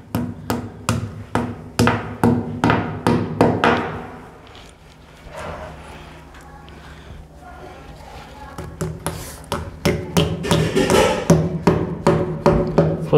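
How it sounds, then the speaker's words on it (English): Sharp hammer blows drive wall plugs into a wall in quick rhythm, pause for a few seconds of quieter handling noise, then resume steady hammering, close and loud. "this is where you need a hammer"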